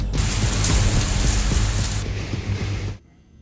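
Heavy rain pours down steadily during a hailstorm that is damaging crops, a dense, loud, continuous roar of rainfall that stops abruptly near the end.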